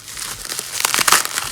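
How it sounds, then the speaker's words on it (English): Plastic packaging wrapped around a bead box crinkles and crackles up close as it is pulled open, growing louder toward the end. "You unwrap it and you unwrap it again"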